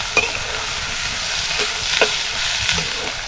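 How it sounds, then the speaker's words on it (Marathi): Onion and garlic fry in oil with a constant close sizzle, broken by a few sharp taps and scrapes of a spatula stirring the pan, loud and without any voices. "लसूण टाकली की आता आपल्याला लगेचच याच्यात कांदा टाकायचा. कांदा आपल्याला असा चांगला नरम करून घ्यायचा."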